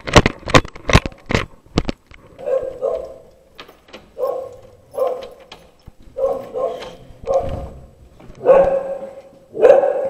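A dog barks loudly and close, first in a quick burst of sharp barks, then in repeated single and double barks spaced out over several seconds, with some faint background sound between them.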